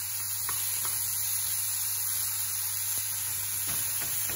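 Chickpeas stir-frying in very hot oil give off a steady, close sizzling hiss. A few faint clicks of stirring break through it.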